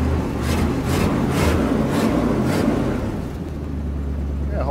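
A 1979 Chevy C20 truck engine runs on its carburetor, a steady low rumble with a rougher surging pulse in the first few seconds that then settles and slightly weakens.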